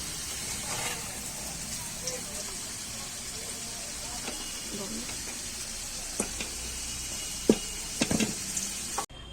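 Steady soft sizzle of potatoes frying in oil, fairly quiet, with a few sharp clinks of a utensil near the end.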